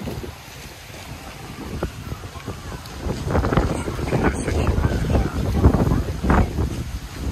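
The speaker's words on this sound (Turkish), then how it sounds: "Çok rüzgar var." Strong wind buffets the microphone outdoors during a disco night in Alanya, a steady rumbling roar that swells louder in the second half, with faint voices underneath.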